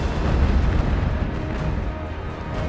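Ship cannons fire in a naval battle in Ultimate Admiral: Age of Sail, producing a continuous rumbling roar of booms that stays loud and heavy at first, then eases slightly.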